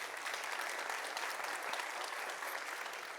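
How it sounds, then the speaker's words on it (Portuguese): An audience at a corporate investment event applauds a guest, dense sustained clapping from many hands, even and moderately loud from start to finish. "Uma salva de palmas para Marco,"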